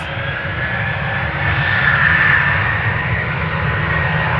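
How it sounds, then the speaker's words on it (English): A Transavia airliner, flight 6505 bound for Amman, roars steadily on departure at Amsterdam Schiphol, a loud continuous jet engine rumble and whine with no voices. "This is Transavia flight 6505."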